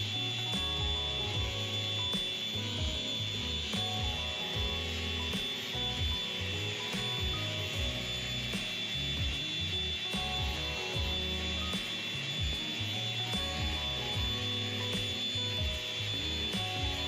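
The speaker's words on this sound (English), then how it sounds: "This Bosch sander has a random orbit, meaning that it has an elliptic motion to it." A Bosch random orbit sander working across a boat deck, a continuous whirring drone with rough scraping and rhythmic knocks as it moves over the surface, steady and close.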